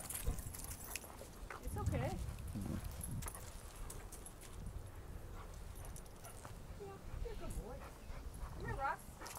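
A German Shepherd and a Pitbull play roughly up close, with growls, yips, whimpers and sharp barks amid scuffling paws, while people talk in the background.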